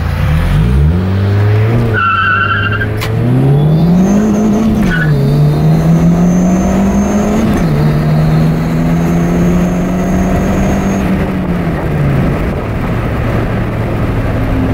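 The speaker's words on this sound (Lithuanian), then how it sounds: "Tai ką, bandom nuo 0 iki 100 išlengvinę automobilį." A Fiat Punto 1.1 turbo engine revs hard through a full 0 to 100 acceleration run on a dyno, its loud note climbing and dropping with each gear change, with a sharp tire-squeal-like whine near the start.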